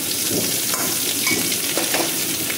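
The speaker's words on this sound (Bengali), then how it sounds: "কড়াইয়ে তেল গরম হয়ে গেছে, আমি এবার হিং দিলাম, তারপরে 5 ফোড়ন দিলাম, তারপরে আদা গ্রেট করে দিলাম" Asafoetida, panch phoron and grated ginger hit hot oil in a kadai for a sweet-shop style potato curry, giving a loud, dense sizzle with crackling bursts, close up and without talk.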